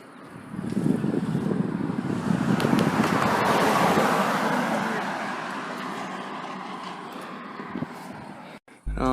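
Cars drive past on a road in sunny, hot Saratoga, California at the edge of Silicon Valley, a steady swelling roar of traffic with wind buffeting the microphone, building to a loud passing peak midway and easing off.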